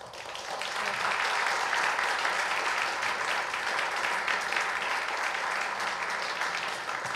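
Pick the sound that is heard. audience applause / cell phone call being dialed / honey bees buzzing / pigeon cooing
audience applause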